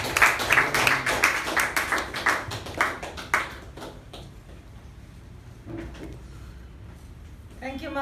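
Clapping from a Toastmasters meeting audience welcoming a speaker: a burst of close, distinct hand claps that thins out and fades, followed by quieter room noise and a voice beginning to talk.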